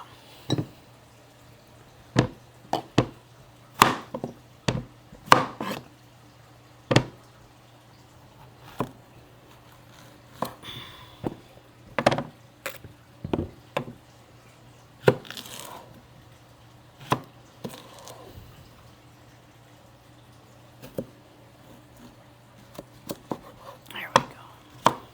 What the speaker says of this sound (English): Gonna be a lot of chopping done today.